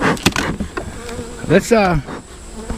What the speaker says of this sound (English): Some bees guarding some honey.